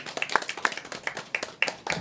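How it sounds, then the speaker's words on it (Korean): Clapping from a crowd at an outdoor protest rally of local residents defending a century-old forest, with scattered hands striking at an uneven rhythm for about two seconds, moderately loud and without speech over it. "박수 부탁드리겠습니다"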